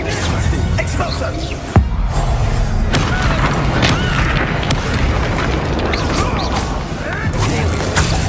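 Expulso explosion spell from the video game Hogwarts Legacy, a loud sudden boom that rolls into a heavy, sustained rumbling crash with whooshing debris, while a voice talks over it.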